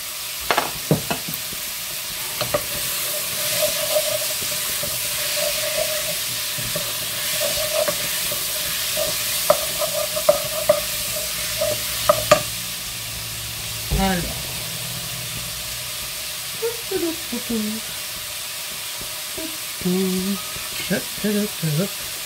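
Onions frying in oil in a pan while a blanquette de porc à l'indienne is being made, a steady sizzle under repeated scraping stirs; a voice speaks now and then over the cooking.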